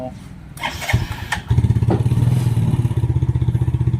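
A Yamaha Sight motorcycle with a defective fuel pump and low fuel pressure cranks, starting with a few clunks, then settling into a loud, fast rhythmic chugging from the starter that never catches into a running idle.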